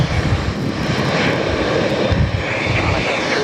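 Garuda Airbus A330-900neo jet engines roar loud and close during a departure at Sydney Airport, a broad sustained rumble that holds steady for the whole stretch.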